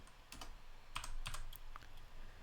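Rapid typing on a computer keyboard, close and fairly quiet, a quick irregular run of clicky keystrokes with a couple of sharper key hits and no talk.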